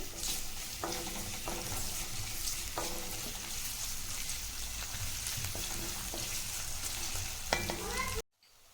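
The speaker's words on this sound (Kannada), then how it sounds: "ಈಗ ಈ ಈರುಳ್ಳಿನ ಸೇರಿಸ್ಕೊಳ್ಳೋಣ. ಇದು ಸ್ವಲ್ಪ ಚೆನ್ನಾಗಿ ಫ್ರೈ ಮಾಡ್ಕೋಬೇಕು." Chopped onions frying in a pan for a quick lunch box dish, a steady close sizzle broken by repeated scraping stirs of a spatula, ending abruptly near the close.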